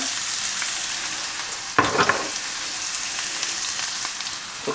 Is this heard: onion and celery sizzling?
yes